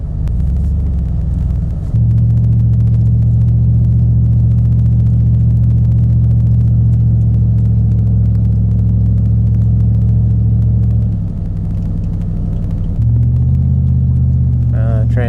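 A 2003 GMC 2500HD pickup truck in second gear climbs a steep hill, its engine droning in a loud, steady low rumble that shifts pitch twice, with brief talk at the start.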